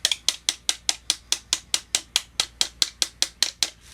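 Steady, rapid series of about twenty sharp hammer taps driving a pin into a duck decoy during repair, evenly spaced and close, each strike crisp with a short ringing decay and no talking over it.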